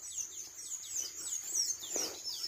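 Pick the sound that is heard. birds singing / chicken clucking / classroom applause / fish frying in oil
birds singing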